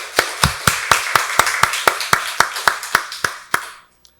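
Church congregation at a Sunday service clapping together in a slow, steady rhythm of about fifteen sharp, loud claps that stops abruptly, followed by near silence.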